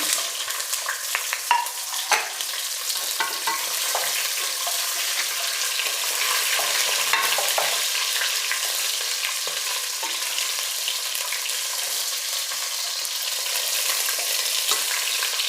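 Brinjal (eggplant) fries in oil with a loud, continuous crackling sizzle and frequent small pops, heard close and steady throughout with no talking.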